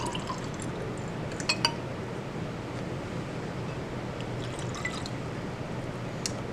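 Water poured into a glass for a lab dilution, a low steady trickle with a few bright clinks and drips of glass, no talking.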